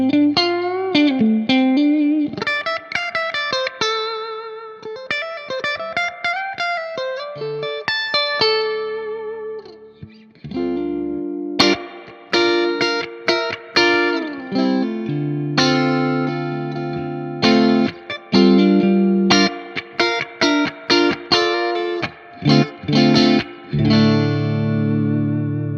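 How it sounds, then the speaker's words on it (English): Electric guitar played through a Marshall Studio 900 20-watt amp with reverb engaged, loud chords and single-note phrases ringing out with a spacious tail between strikes, no talking. "So you can hear the reverb kind of really take shape there."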